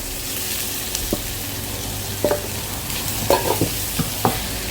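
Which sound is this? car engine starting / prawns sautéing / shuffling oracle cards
prawns sautéing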